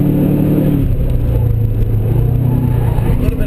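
A Subaru Forester S pulls hard in third gear on a race track, its engine a steady, loud drone with low rumble and road noise throughout, close and continuous, with no talk.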